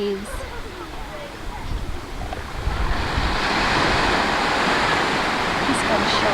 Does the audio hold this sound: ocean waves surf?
yes